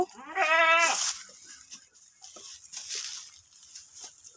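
Goats bleat on a small Thai farm, the young herd about five months old: one loud, close, wavering bleat at the start, then fainter farmyard sounds and distant calls.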